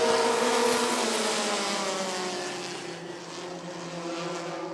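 Several short track race cars roar together at Rockford Speedway under green flag, a loud sustained engine drone with layered revving, steady throughout with a slight dip midway.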